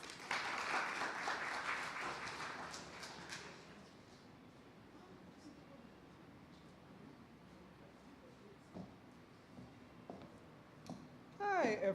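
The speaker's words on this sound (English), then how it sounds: "Please give her a round of applause as she comes to us." A church seminar audience applauds a presenter coming forward: a short spell of clapping that fades after a few seconds into quiet room noise with faint shuffles and a couple of soft knocks near the end.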